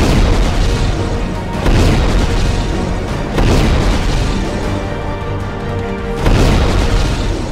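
Repeated heavy booms and rumbling blasts from Israeli air strikes on the Gaza Strip, arriving in loud waves roughly every one to two seconds over a dense, continuous roar.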